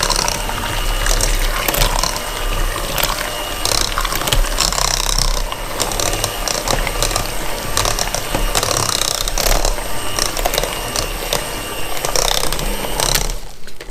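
Mashed potatoes being mixed with milk, a continuous wet churning and scraping with a ratcheting, mechanical texture held steady for the whole stretch and ending abruptly, with no one speaking.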